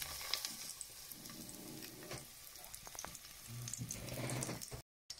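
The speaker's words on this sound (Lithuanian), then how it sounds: "Kepsniukai kepa." Breaded eggplant schnitzels coated in spices and breadcrumbs fry in a pan over medium heat, giving a steady close crackling sizzle with small pops, alone without talk, cut briefly near the end.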